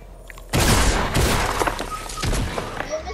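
A rapid burst of Fortnite gunfire breaks out, with loud sharp cracks and booms that trail into scattered shots and thumps, close and dense for a couple of seconds after a quiet start.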